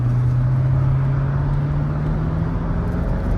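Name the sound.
Mercedes R230 SL500 engine revving while driving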